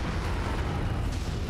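A dense, rumbling artillery bombardment explosion in the mech combat game Mechwarrior 5: Mercenaries, loud and continuous with no clear separate blasts.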